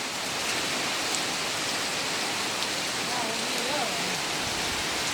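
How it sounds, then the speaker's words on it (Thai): Steady rain pours down in a dense, unbroken hiss that stays loud and even throughout, with faint voices barely audible under it. "ฝนตกลิ้นแล้วครับผม"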